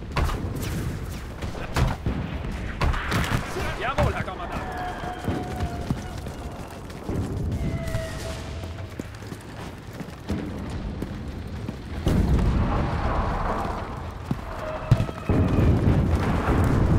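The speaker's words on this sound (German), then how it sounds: "Ich rufe die Artillerie." Booming artillery fire and scattered gunshots in the Normandy airfield battle of the video game Enlisted, loud irregular blasts and rumbles spread across the whole stretch amid steady battlefield noise.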